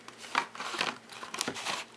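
Scissors cutting out a paper template for a heart-shaped paper rosette, a few quick close snips and crinkling paper rustles, fairly quiet, with no talking.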